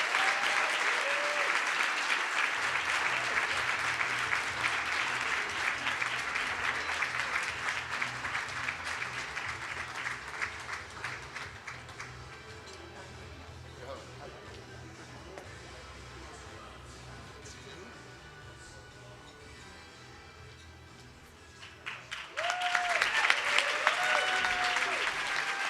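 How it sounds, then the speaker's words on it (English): Sustained applause from an awards ceremony audience in Philadelphia honoring Lifetime Achievement Award recipients, steady clapping for over twenty seconds that softens briefly before a voice begins speaking near the end. "Let's give them a real big round of applause."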